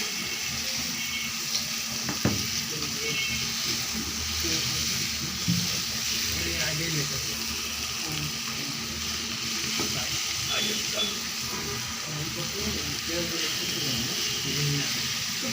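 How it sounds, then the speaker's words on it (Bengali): Garlic frying in a pan, producing a loud continuous sizzle and crackle with occasional stirring clicks, close and steady throughout, with some faint voice in the background. "শুধু রসুনটা একটু বেশি করে ভেজে নিছি"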